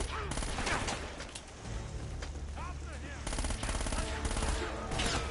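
Rapid gunfire crackles through a firefight in Uncharted: Drake's Fortune, with dense bursts of automatic shots and ricochets from several guns at once, loud and nearly continuous.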